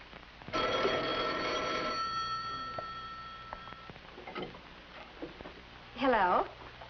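An old 1950s telephone bell rings loudly in a home for about a second and a half, then falls quiet, followed by soft movement and a brief voice.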